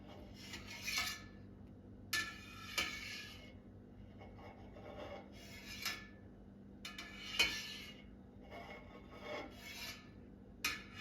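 A knife slicing through set curdled milk in a pot while making brynza cheese, a series of soft, quiet scraping strokes in a slow, uneven rhythm against a faint steady hum.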